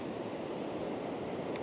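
Surf waves break on a fishing beach as a steady, dense roar of rushing water, continuous and fairly loud throughout, with no voices.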